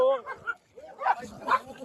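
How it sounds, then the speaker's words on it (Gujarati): Dogs bark around midnight along a pilgrimage route, a few short yelping barks in quick bursts heard close by, mixed with people talking. "12 વાગે એટલે ભાઈ લો કુતરા ભોકવા મળે ભાઈ"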